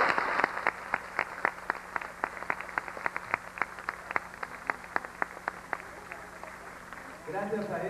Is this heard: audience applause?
yes